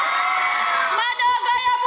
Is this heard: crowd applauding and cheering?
yes